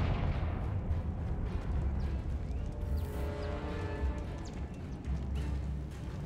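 Confringo spell blasts in the video game Hogwarts Legacy: low booming explosion rumbles with crackling tails, one surging near the start and another toward the end, over a continuous deep rumble.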